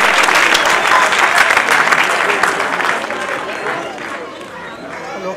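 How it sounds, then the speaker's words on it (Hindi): An audience at a felicitation and book release ceremony in Bhopal claps loudly for the honoured awardees, the dense applause gradually thinning and fading toward the end. "एक बार तालियां बजाकर करें इनकी हौसला अफजाई"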